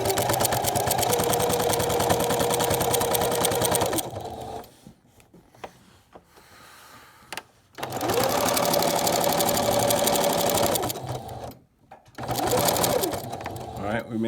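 A sewing machine stitches binding onto a pinwheel quilt in fast, loud, steady runs that stop and restart, with quieter gaps where a person talks.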